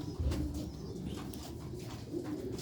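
Sialkoti pigeons give soft, low throaty coos close by, with a few repeated calls over a murmur of background noise and no speech.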